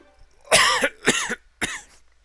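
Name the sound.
scratchy cough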